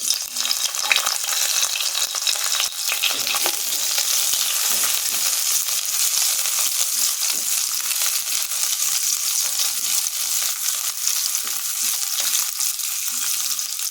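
Onion frying in melted ghee, a steady, close, dense sizzle and crackle that runs unbroken throughout with occasional stirring scrapes, no voices.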